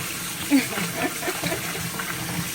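Cut yams and potatoes rinsed under a running tap, a steady close wash of water with a brief splash near the start, while people talk quietly alongside.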